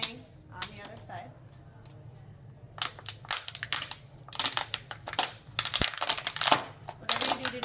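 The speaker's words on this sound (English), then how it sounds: "you're going to cut two holes in your water bottle" Scissors jab holes into a plastic water bottle, giving sharp irregular crackles and crinkling pops that grow denser in the second half, with some voice in the quieter first part.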